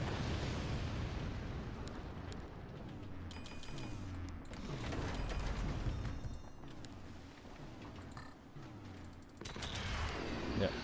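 Rocket weapons firing in the video game Forts: a dense run of booming blasts and crackling bursts rolls on continuously at high volume, with someone talking over the barrage.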